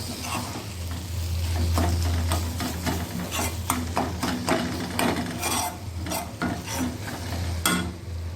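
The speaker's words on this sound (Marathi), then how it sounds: "आता चारी बाजूने आपण परतून घेऊया" Dried shrimp being stir-fried in a pan with onion, red chili powder and turmeric, a steady close sizzle with repeated scraping and stirring strokes of a spoon, no talk.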